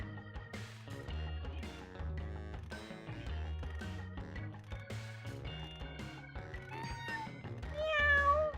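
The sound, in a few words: cat meowing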